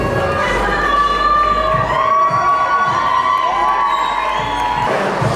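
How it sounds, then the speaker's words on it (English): A crowd at a bodybuilding championship men's physique evening show cheers, whoops and claps for the competitors on stage, loud and close, with high shouts and whistles riding over sustained applause throughout. "so give them a round of applause one more time."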